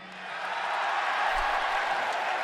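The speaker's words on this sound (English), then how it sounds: "And people cheer." Broad, steady crowd roar swelling within the first half second and holding loud and even, like a wrestling arena audience cheering at a WWE Raw show, with no clear voices above it.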